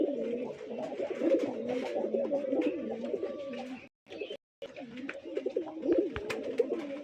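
Large Rajshahi Giribaj pigeons, a male and female pair, give steady overlapping coos close by, with a short break midway before the cooing resumes.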